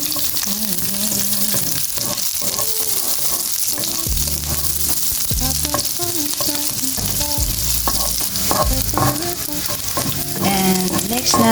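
Garlic and onion frying in oil in a pan, a loud steady sizzle with repeated scraping and stirring knocks of a utensil against the pan, close up throughout with no talking.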